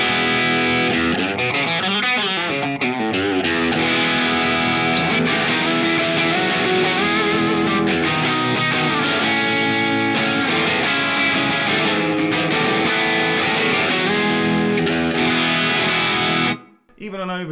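Distorted electric guitar strung with D'Addario 10-46 strings, played loud and steady with dense overdriven chords and riffs, ringing on until it cuts out abruptly near the end.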